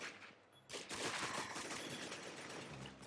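Rapid bursts of M60 machine gun fire in the shooter game Arsenal, dense continuous gunfire starting abruptly after a brief quiet moment and staying loud and sustained to the end.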